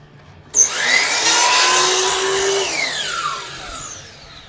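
A power saw starts abruptly and cuts a wooden porch post to length, a loud, close, whining buzz whose pitch slowly shifts for about four seconds before fading.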